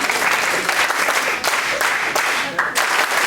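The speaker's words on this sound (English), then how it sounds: "NSS clap" A crowd of students claps in unison at an NSS orientation programme, dense rhythmic applause filling the room with a few pulses standing out, loud and sustained throughout.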